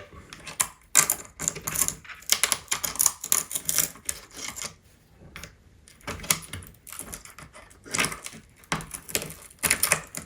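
A pick scrapes and pries beneath a loose floor tile, giving dense, irregular clicking, scraping and knocking bursts that run close and fairly loud throughout.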